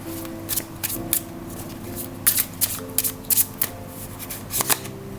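Tarot cards being shuffled by hand, bursts of crisp riffling and flicking that come in short irregular clusters, fairly close and clear, with no voice over them.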